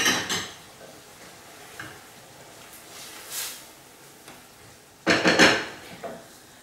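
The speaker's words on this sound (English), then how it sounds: "it's kind of just a case of stirring the rice so it doesn't stick to the pan" A spoon scrapes and clinks against a pan while risotto rice is stirred with stock, in intermittent close bursts with quieter gaps, the last scrapes loudest.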